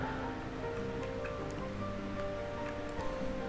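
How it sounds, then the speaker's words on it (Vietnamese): Rain falls in the Viking strategy game Frozenheim as a steady, even wash of hiss and patter that continues unbroken, with no voices. "trời bắt đầu mưa nè"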